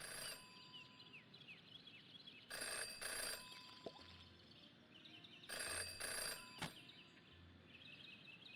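A telephone rings in the video game Jenny LeClue, two double rings a few seconds apart, faint and clear over a quiet ambient background with a few soft clicks.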